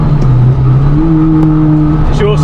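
A Renault Clio 197 Mk3 fitted with a 245bhp Honda K20 engine drives hard on a track, its loud engine note holding a steady drone, then climbing in pitch as it revs up near the end, with in-car talk over it.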